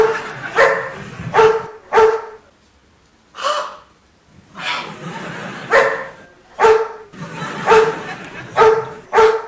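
A dog barks loudly and close by in a rapid series of sharp barks with gasping, breathy snorts between them, pausing briefly before barking again.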